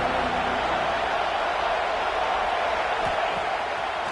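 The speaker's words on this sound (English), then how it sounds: "this crowd trying to help keep them there" Crowd noise fills a college football stadium during an Ohio State Buckeyes game as a steady, dense roar with no breaks. It holds at an even level with no distinct individual voices standing out.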